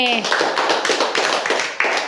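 A group of children clapping together in a classroom memory game, a quick rapid burst of hand claps that continues loud and close for about two seconds, briefly preceded by a voice.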